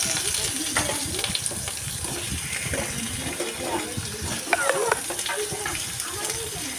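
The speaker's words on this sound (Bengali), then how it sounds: "এখন দেখুন এই তেলের মধ্যেই আমি গাজর আর আলুগুলোকে ভেজে নেব" Potatoes and carrots frying in oil in a pan, a dense steady sizzle with occasional stirring clinks, close by, while a voice talks over it at times.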